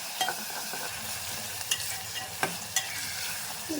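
Chopped onions fry in oil for a mutton, mango and brinjal curry, giving a steady close sizzle broken by a few sharp clinks and scrapes of a spoon stirring the pan.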